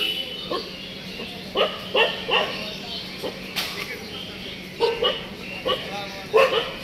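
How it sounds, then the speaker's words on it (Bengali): A dog barking angrily outdoors by a lake, a series of sharp, irregular barks at moderate distance with people talking in the background. "পাগলের উপরে খেপছে কুকুর।"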